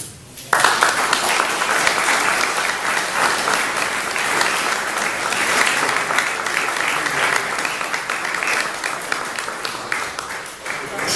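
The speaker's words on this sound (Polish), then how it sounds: "ja bardzo dziękuję za oklaski dla Wołyniaków" An audience at a commemoration of the 70th anniversary of the Volhynia massacre of Poles applauds the Volhynians. Loud, sustained clapping from a large crowd fills the hall and stays steady for over ten seconds.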